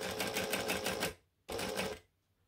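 Two close bursts of a sewing machine stitching on a decorative stitch length with a back stitch, the first about a second long, then a short pause before a second, slightly shorter run.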